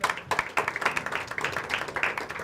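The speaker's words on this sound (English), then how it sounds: "A round of applause." Audience applause at a panel discussion on human rights and national security, a burst of close, crisp clapping from a modest-sized crowd, individual hand claps distinct and uneven.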